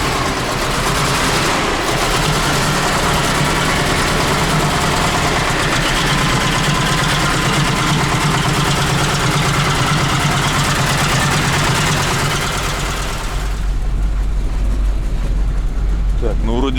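A KAMAZ truck engine idles just after starting, a loud, heavy, continuous low rumble that holds steady throughout, with voices heard at times over it.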